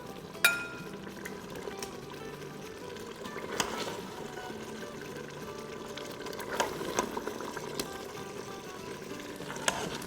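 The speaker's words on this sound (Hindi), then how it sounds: "बस इसकी 30 सेकेंड भुनाई कर लेते हैं।" Curry (salan) sizzling and frying in a pot while being stirred for a biryani, a soft continuous crackle with occasional scraping clinks of the spoon, close and unaccompanied by talk.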